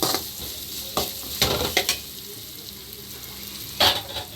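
Curry leaf paste fries in a pan, with a constant soft sizzle broken by a few scraping stirs and clinks, close and fairly quiet.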